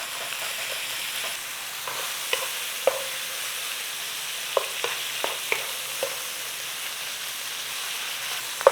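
Ground beef frying in a hot pan, a steady sizzle under repeated sharp taps and scrapes as a utensil breaks up the meat, close and clear, with no talking.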